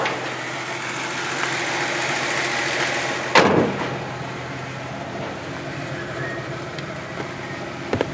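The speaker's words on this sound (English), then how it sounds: "Now it's idling at a much better idle speed now, about 750" A Nissan Z idles steadily in a garage at about 750 rpm, a low, even engine hum with a faint rhythmic pulse and one brief sharp knock partway through.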